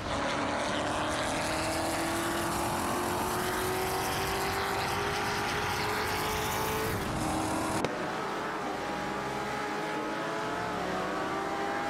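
Race cars howl in an AI racing simulation, among them a 1973 Holden Monaro GTS, with several engines droning and rising in pitch together, loud and continuous, before an abrupt cut to a slightly different mix of engines.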